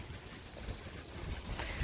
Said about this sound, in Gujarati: પવન બહુ આવે છે મારો અવાજ થોડોક ઓછો આવતો છે તમને પવનના કારણે